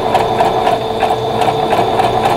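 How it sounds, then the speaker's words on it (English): A sewing machine zigzag-stitches two pieces of cotton batting together, a steady, loud, rapid mechanical whirring with regular ticking pulses running throughout, close by and with no talk. "So this is just strictly zigzagging it together."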